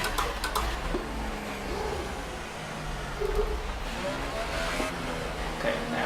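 A Formula 1 race car in the F1 2018 video game, lapping the Monaco circuit, revs and accelerates with a steady buzzing engine drone and rising gear pitches, set behind constant game noise.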